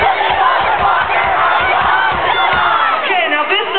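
A concert crowd at a show shouts together on cue, a dense roar of many voices chanting in unison, loud and sustained throughout.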